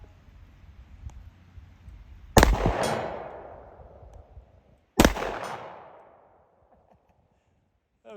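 Smith & Wesson M&P 10mm 2.0 pistol fired outdoors at a steel target around 90 to 100 yards away: two sharp, loud shots a few seconds apart, each trailing off in a long echoing decay, then quiet.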